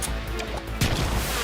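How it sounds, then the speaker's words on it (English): A grenade blows up in Metal Gear Solid 3, a single sharp blast that bursts loud and close amid steady game noise, then fades into a rumbling tail. "Grenade!"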